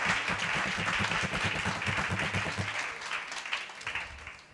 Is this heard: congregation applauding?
yes